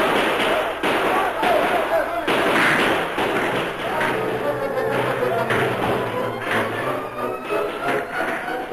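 Rifle volleys as defenders open fire on a charging outlaw column at the Alamo, loud repeated bangs and thumps in a dense battle mix, with voices shouting among the shots.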